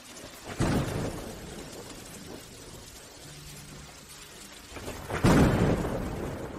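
Thunder rolls in two heavy bursts, one near the start and a louder crack later. Deep rumbling decays between them over a steady hiss of rain.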